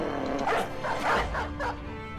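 Dogs in a hunting video game yip and bark a few times in quick succession, faint and slightly distant over a low steady game background.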